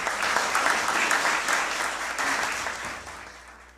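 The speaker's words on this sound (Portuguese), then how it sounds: "Recebo os aplausos do Poder Legislativo Municipal." Audience applause at the Prêmio Chico Mendes award ceremony in a municipal legislative chamber, a dense crowd of clapping hands fading out over a few seconds.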